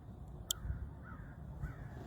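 Crow cawing outdoors, a few harsh calls over quiet background ambience, with one sharp click near the start.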